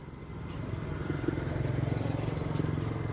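A Yamaha NMAX scooter engine idles and runs steadily up close, a continuous throbbing hum with light rattling clatter during a test for noise and squeaking.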